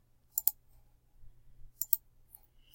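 Computer mouse clicks in a quiet room: a quick double click, a pause, then another double click and a fainter single click, crisp and close against near silence.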